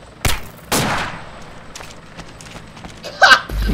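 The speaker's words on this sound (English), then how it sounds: "Eska's shooting at Beagle" Gunfire in the military video game Arma 2: a few sharp, separate shots crack at irregular intervals over quiet background noise.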